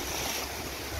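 River water surging and lapping against a bank, stirred by the wake of a passing motorboat on an Amazon-area fishing trip; a steady, close wash of churning water with a low rumble, no voices.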